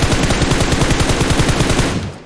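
Rapid automatic gunfire in a video game, a steady loud burst of evenly spaced shots lasting about two seconds before tapering off, with no talk over it.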